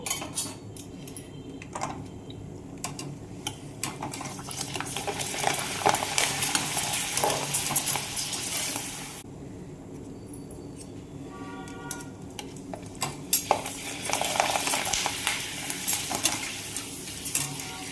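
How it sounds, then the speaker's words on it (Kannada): Urad dal papads fry in hot oil with a busy, crackling sizzle that swells and eases in waves, broken by clinks and scrapes of a metal utensil against the pan, close and fairly loud. "ಎಣ್ಣೆ ಕಾದೈತಿ, ಹಪ್ಪಳ ಹಾಕೋನು"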